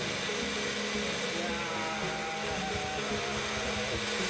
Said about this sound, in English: now we're gonna blend it